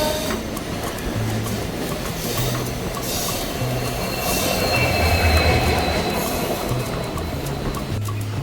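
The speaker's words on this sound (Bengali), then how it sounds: "এই হাওড়া স্টেশন থেকে ট্রেনটা ছেড়ে এসে বেরিয়ে আবার দাঁড়িয়ে পড়ে" A Howrah–Digha local train rolls along the line with a continuous rumbling clatter, its wheels squealing in loud, sustained, repeated screeches over the steady running noise.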